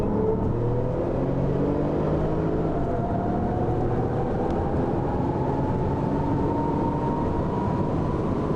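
Two Porsche Turbos, a Cabrio and a Coupé, racing side by side, engines droning loudly and continuously with rising pitch as they accelerate, a close, unbroken roar of engine and road noise.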